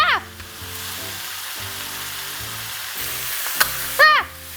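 Pork fat from trotters sizzling and spitting in a hot pan, a steady sizzle with scattered pops; a voice cries out briefly near the start and again near the end.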